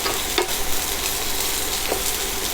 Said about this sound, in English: We're going to saute these up, you know, just until like the onions start to get a little bit soft.